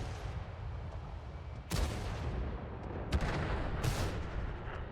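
Tank cannon fire in a competitive video game tournament match: a rumbling, noisy battle bed broken by a few sharp, loud booming shots spaced about a second apart, with no voices.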